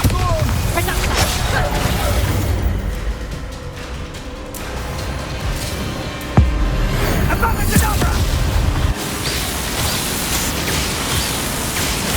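A Bombarda spell explosion in Hogwarts Legacy, heard as a sudden loud boom partway through, set within dense, noisy game combat audio and rumbling effects.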